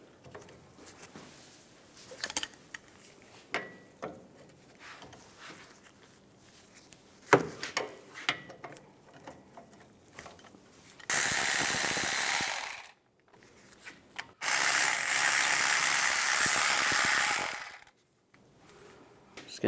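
A ratchet with a 19 mm socket removing front brake caliper bolts on a 2007-2013 Chevy Silverado 1500. Quiet scattered clicks and clanks come first, then two long, loud bursts of continuous tool noise.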